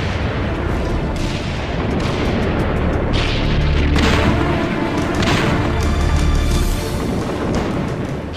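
Heavy artillery bombardment recreating the 1916 Battle of Verdun in the First World War, a dense, continuous barrage of loud booms and blasts with no pause.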